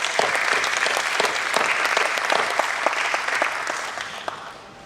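Steady applause fills a hall at a stock exchange listing ceremony, many hands clapping in a dense, even wash that holds throughout before easing slightly at the end.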